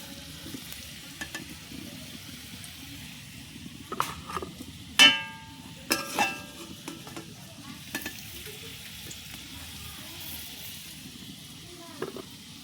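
Potatoes fry in oil with a low, steady sizzle, punctuated by a few sharp clinks and scrapes of a spatula against the pan; the sounds stay fairly quiet throughout.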